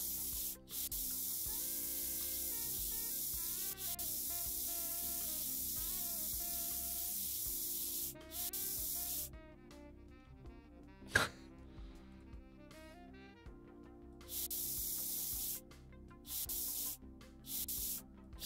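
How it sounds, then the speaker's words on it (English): An airbrush hisses in steady bursts as paint is sprayed onto a scale model, the broadband spray starting and stopping several times over a faint background. "In which case, why are we airbrushing it?"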